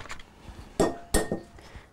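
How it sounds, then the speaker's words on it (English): Eggs are cracked against a bowl: a few soft taps and then two sharper clinking knocks close by, with light clatter around them and no talking. "You're going to crack your eggs into your bowl"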